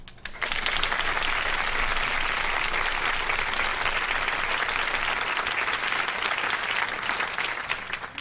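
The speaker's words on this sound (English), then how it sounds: "let me give you official People Before Politics round of applause" A studio audience on a political radio show breaks into sustained, dense applause, steady and full for several seconds before tapering slightly at the end.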